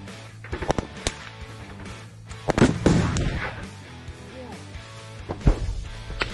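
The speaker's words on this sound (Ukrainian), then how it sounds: "Постріл." A sharp, heavy blast rings out, followed by rolling rumbles and scattered thuds as an NLAW anti-tank missile launches and strikes a distant Russian BMP in combat in Ukraine.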